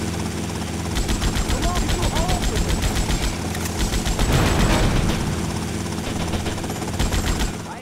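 Rapid bursts of gunfire crackle in Grand Theft Auto Vice City over the steady drone of a helicopter, shots repeating in quick trains and a louder blast midway, with someone talking over the din.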